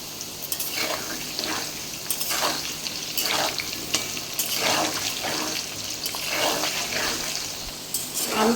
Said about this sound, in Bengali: কড়াতে তেলটা গরম হয়ে গেছে, এবার আমি আলুগুলোকে প্রথমে ভেজে নেব।